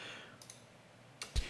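Faint, sharp computer mouse clicks during audio editing in Pro Tools: a quiet pair of clicks, then two more close together near the end, over low room hiss.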